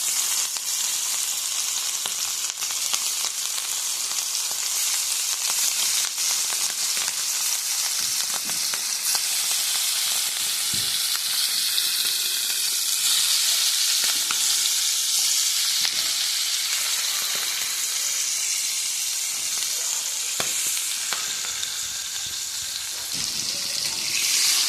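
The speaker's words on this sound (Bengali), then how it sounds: "তেল গরম হয়ে গেছে, দিয়ে দেবো মাছ" Spiced hilsa fish frying in hot mustard oil in a pan, a continuous dense sizzle and crackle that holds steady throughout, with faint kitchen clatter and no voices.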